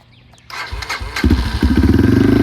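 A Yamaha TTR230 dirt bike, an uncorked and rejetted race build, cranks on choke and catches, its single-cylinder engine firing up into a loud, close, rapid idle putter.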